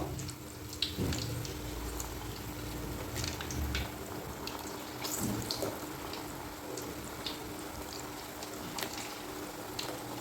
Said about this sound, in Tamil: பாருங்க ஃப்ரெண்ட்ஸ் என்ன எப்படி கொதிச்சு வெந்துக்கிட்டு இருக்குன்னு